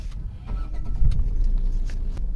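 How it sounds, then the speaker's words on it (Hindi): A 2023 Tata Altroz XZ+ petrol hatchback has its ignition started, giving a brief crank followed by a low engine rumble that settles into a steady idle, close by with no talk. "तो मैं गाड़ी का जो है एक बार गाड़ी को इग्निशन स्टार्ट कर लेता हूं एक बार"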